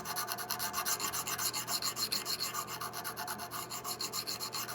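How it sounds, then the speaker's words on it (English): A hand file rasps steadily across a metal lock part from a colonial gun kit, clearing parting lines in quick, even back-and-forth strokes, close and continuous with no talking. "Let me find another file here that will work well."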